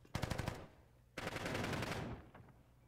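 Decoy grenade gunfire in Call of Duty Modern Warfare 3: two bursts of rapid automatic shots, a short rattling volley and then a longer sustained one, loud and close with no talking.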